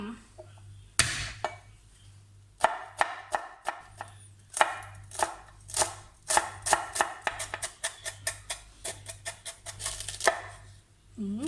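Rapid, crisp knife chops through fresh garlic on a cutting board, irregular at first and then quickening into a steady rhythm of sharp, close taps, under faint background hum.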